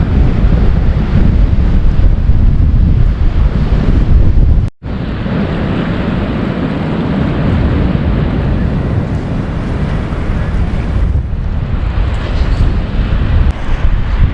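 Strong, steady wind roars across the microphone at a flooded state park by a river, a loud continuous rush with brief dips and no voices.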